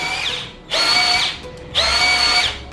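Xenon CDID707 cordless impact drill running in third gear, two loud bursts of high-pitched motor whine, each about half a second long, separated by brief pauses, with no talking.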